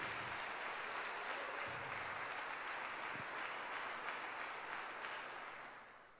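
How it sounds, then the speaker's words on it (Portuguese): A church congregation applauds in a steady, dense patter of clapping that carries on for several seconds at an even level before tapering off slightly at the end. "Aplauda o Senhor."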